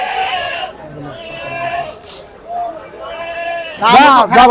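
Goat bleats rise over a murmur of voices at a sacrificial goat market, with a louder, quavering bleat near the end standing out close by.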